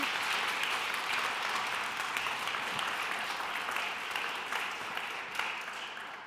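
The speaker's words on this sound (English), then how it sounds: "And may I please have a big applause for Anna Poletti." An audience at an evening public talk about social media applauds the speaker, a steady, moderately loud stretch of many hands clapping that tapers slightly toward the end.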